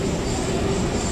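A local passenger train running between Egmore and Tambaram in Chennai, heard from on board as a steady, loud rumble of wheels and carriage noise throughout, with no voices.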